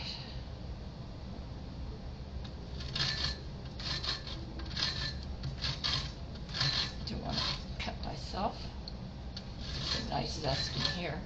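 A soft lemon rubbed over a grater for zest, making repeated close rasping scrapes in an uneven rhythm over a low background.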